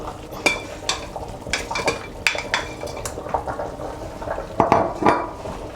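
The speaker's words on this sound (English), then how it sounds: "I'm trying to mix the meat with the smoked fish together to cook again" Meat and cleaned smoked fish being mixed together in a pot for Nigerian ogbono and okra soup, with repeated clanking scrapes and clinks of a utensil against the pot in an irregular rhythm, close and fairly loud, with no talking.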